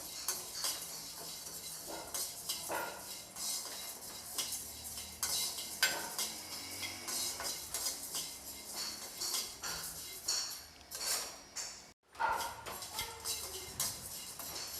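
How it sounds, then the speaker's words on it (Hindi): Coriander, cumin and sesame seeds dry-roasting in a pan, with steady scraping and clinking of a utensil stirring them, a faint sizzle underneath and a brief pause near the end. "मैंने इन मसालों को थोड़ी देर तक भून लिया है।"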